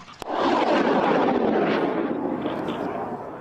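Military helicopters flying during an airborne troops' tactical training exercise in the Pskov region make a loud, continuous roar that starts abruptly after a sharp click and then slowly fades, with no voices.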